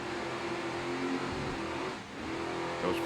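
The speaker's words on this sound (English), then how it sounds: "Two 750 horsepower inboards." Twin 750 horsepower inboard engines drive a racing powerboat of the Briosky Racing Team, a steady loud droning roar that holds throughout with a brief dip, close and unbroken.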